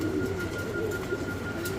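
Two female Oriental Satinette pigeons give a low, droning coo, steady and close, over a faint constant hum.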